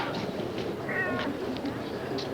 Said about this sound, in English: Oh, Agatha's my cat.